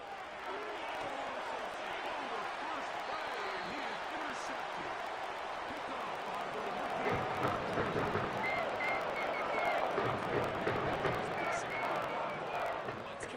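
A home stadium crowd roars in a Madden football video game after an interception, a broad steady wall of cheering that swells louder toward the end, with speech layered over it.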